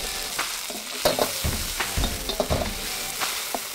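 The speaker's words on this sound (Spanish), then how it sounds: "Sofreímos bien la seta cardenal con el ajito, con ese toque de aceite de la misma conserva de la seta y un toque de sal." Preserved cardinal mushrooms sautéing with garlic in their own preserving oil and a pinch of salt, sizzling steadily in the pan while a utensil stirs and scrapes in several close, uneven strokes, with no one talking.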